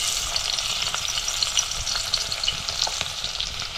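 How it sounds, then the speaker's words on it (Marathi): Crushed garlic sizzles in hot oil in a home kitchen, a steady, close crackling fry with no talking. "आता आपण ठेचलेलं लसूण टाकूया."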